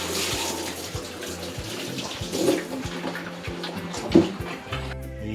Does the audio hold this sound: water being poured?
yes